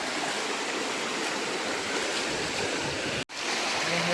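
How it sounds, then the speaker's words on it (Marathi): Clear stream water flows past on a farm in the Konkan region, a steady rushing babble heard up close that cuts out briefly near the end before resuming. "इकडून पाणी स्वच्छ येत आहे."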